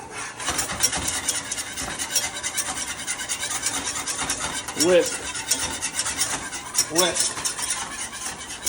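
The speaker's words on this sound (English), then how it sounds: "You gotta sit here and stir that thing up." A whisk stirs thick gravy for braised short ribs in a pot, making a steady, close scraping and swishing that runs the whole time with a few louder sweeps near the end.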